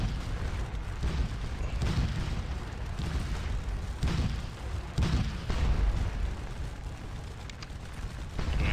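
Musket volleys and artillery fire from a Waterloo battle in the Scourge of War game, heavy booms and crackling shots rolling continuously with repeated loud bursts over a dense battlefield rumble, no voices.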